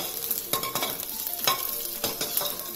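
Green chili pieces fry in hot oil with a bright, close sizzle, broken by rhythmic scraping stirs of a spoon against the pan every half second or so.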